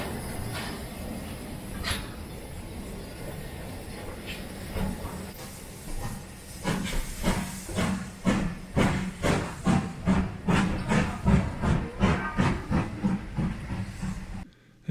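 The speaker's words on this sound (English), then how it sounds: "The coast to coast crosses the North York Moors Railway at Grosmont. Obligingly, a train came along just at the right time." A steam train on the North York Moors Railway at Grosmont pulls away, starting with hiss and soft noise before building into a steady run of loud rhythmic chuffs that grow stronger and closer.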